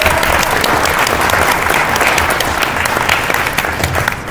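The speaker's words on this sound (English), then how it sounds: "let's give Tony a big round of applause" A conference audience at a startup pitch event in Salt Lake City claps loudly and steadily, dense applause filling the room without a break and easing slightly near the end.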